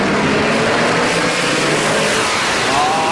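NASCAR trucks, including an old Dodge, race down the backstretch during the 2009 Z-Line Designs 250 restart, filling the air with a loud, steady, close engine roar and no talking.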